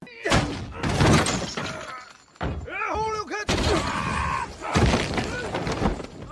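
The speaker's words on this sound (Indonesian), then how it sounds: "terlibat perkelahian yang mengakibatkan furniture rumah menjadi hancur berantakan" Household furniture smashes and thuds in a film fight scene, with loud crashing bursts and heavy impacts mixed with shouting voices and a dramatic score.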